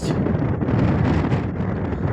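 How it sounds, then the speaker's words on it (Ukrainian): Strong wind on the Chilean coast buffets the microphone in a constant loud roar with gusty fluctuations throughout. "Видишь, як вітер попутний."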